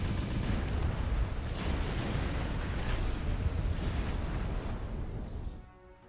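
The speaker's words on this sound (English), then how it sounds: "everybody and everything is shooting at me" Dense, continuous weapons fire and explosions from a MechWarrior Online battle involving a Marauder 3R mech with a rotary shoulder weapon, a loud unbroken barrage of booms and blasts that fades near the end.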